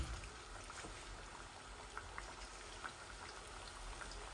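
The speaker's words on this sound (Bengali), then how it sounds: "আমার তেলটা ফুটে উঠেছে, এখন আমি দিয়ে দিচ্ছি" Fritter batter sizzles in hot oil, a faint, steady frying hiss dotted with small pops and crackles, continuous and alone.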